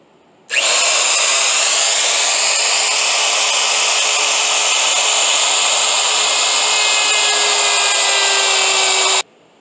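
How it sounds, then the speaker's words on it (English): A router fitted with a rabbeting bit cuts a half-inch-deep groove along a 1x2 wood board, giving a loud, steady high-pitched whine that starts abruptly and runs for about nine seconds, then cuts off. "I start by cutting a 1/2 inch deep groove in a piece of 1x2 using a rabbiting bit on a router"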